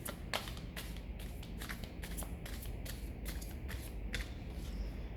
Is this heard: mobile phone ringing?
no